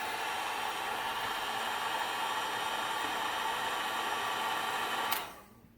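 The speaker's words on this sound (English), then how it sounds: "And then you have your heat gun, of course." A heat gun blows a steady whirring roar of hot air while shrinking heat-shrink tubing over a wire patch near an airsoft battery connector. It runs close and constant, then shuts off and winds down at the end.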